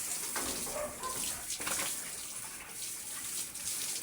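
Pigs being bathed on a farm, with steady broadband water splashing and gushing throughout, fairly close and continuous with brief swells.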